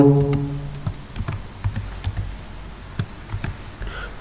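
Clicky keys on a computer keyboard tapped in an irregular run while HTML is typed, each keystroke close and distinct, with a brief tone at the start.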